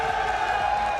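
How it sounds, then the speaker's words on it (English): A large esports arena crowd at a world cup event roars in a dense, continuous wash of cheering, steady and loud without distinct claps or speech. "the crowd here is insane"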